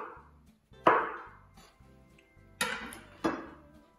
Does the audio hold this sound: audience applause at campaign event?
no